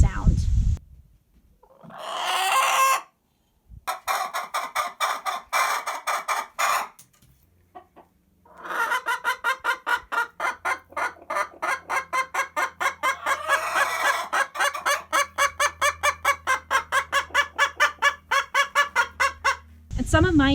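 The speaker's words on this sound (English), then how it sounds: "my Rhode Island Reds, they will make these frustration noises for about an hour before they lay" Rhode Island Red hens make repeated pre-laying frustration calls, rapid rhythmic clucking runs broken by louder drawn-out squawks, close and insistent, with a low hum beneath.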